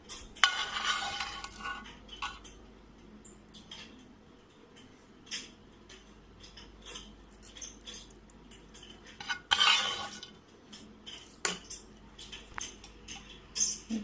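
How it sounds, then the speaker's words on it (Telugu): A spoon stirring tempering into peanut chutney in a bowl, with intermittent clinks and scrapes of metal against the dish, quiet and close, a couple of sharper louder stirs standing out. "ఇప్పుడు మనం చట్నీలో తాలింపు వేసేసుకుందామండి."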